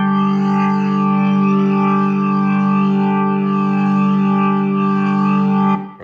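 A Nord Stage 3 organ plays a sustained chord through a gritty drive distortion, thick harmonic tone with slight swirling modulation, loud and steady before cutting off abruptly at the end.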